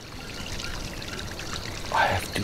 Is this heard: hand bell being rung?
no